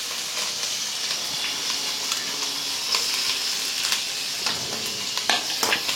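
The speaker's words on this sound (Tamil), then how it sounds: "இப்போ வெங்காயத்தை ஆட் பண்ணிக்கலாம்." Onions frying and being stirred in a pan, giving a steady close sizzle with scattered scraping and clinking stir sounds throughout, no voices.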